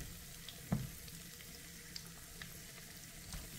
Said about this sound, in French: Pendant que mon poisson est en train de gentiment frire